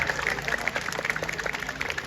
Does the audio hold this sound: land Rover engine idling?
no